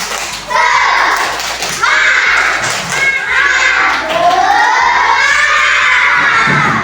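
Fourth-grade pupils in an Indonesian primary school classroom perform a spirit clap routine, their shouted chant and rhythmic claps and thumps loud and close, voices rising together over the claps.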